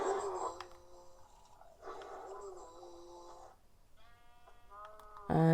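Sheep in the Minecraft video game bleat several times in quick succession, loud and near, with wavering drawn-out calls over a low background rumble.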